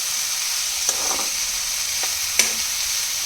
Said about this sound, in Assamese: এতিয়া মই কাটি থোৱা বন্ধাকবিখিনি দি দিম। ভালকৈ এবাৰ লৰাই দিছোঁ।